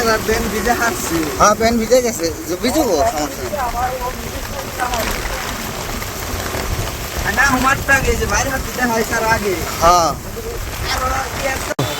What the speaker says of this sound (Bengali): কিন্তু বৃষ্টি তো প্রচুর